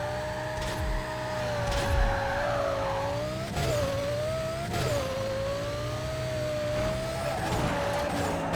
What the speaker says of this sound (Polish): Więc przejedziemy się właśnie tym Audi R8.